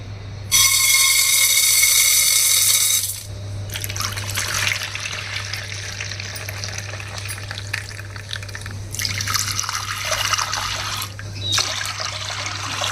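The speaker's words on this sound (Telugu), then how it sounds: "ఇదిగోండి నీళ్ళు పోసి నానబెట్టాలండి" Water poured over chana dal to soak it, a bright gushing pour for about three seconds followed by quieter trickling and splashing in a kitchen, with a steady low hum underneath.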